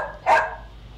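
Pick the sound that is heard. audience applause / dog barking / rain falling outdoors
dog barking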